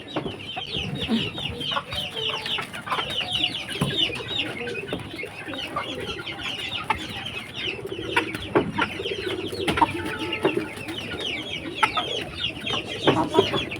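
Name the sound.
chickens clucking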